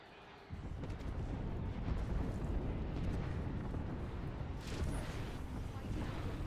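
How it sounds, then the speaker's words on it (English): A grenade blast in the battle-royale shooter Apex Legends opens with a sudden loud boom, followed by a sustained, rumbling roar that lasts several seconds. "Threw my grenade out."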